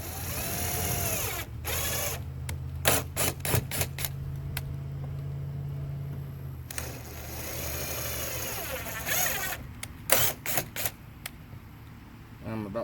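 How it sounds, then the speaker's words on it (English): A power drill pre-drills four screw holes into a kayak hull for a rod holder, heard as several short, close whining bursts separated by pauses, with a steady low hum underneath. "I want to go ahead and just pre-drill these. Down all the way just like that."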